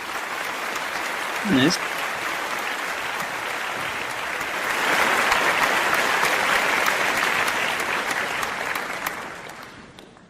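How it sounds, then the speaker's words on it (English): Sustained applause from an audience for the Duchess of Sussex, steady dense clapping that swells louder midway and then fades out, with a brief voice speaking over it early on. "let me give a big round of applause to our Duchess of Sussex"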